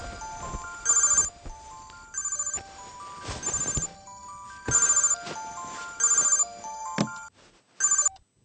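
An electronic telephone ringtone plays alone, loud and close. It repeats in about six evenly spaced bright bursts with short gaps between them.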